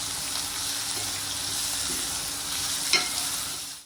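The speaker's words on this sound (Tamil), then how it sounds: "வெங்காயம் கொஞ்சம் நல்லா வதங்கட்டும்" Onions frying in a pan with ginger and garlic for a paneer gravy, a steady close sizzle with a brief stirring clink near the end.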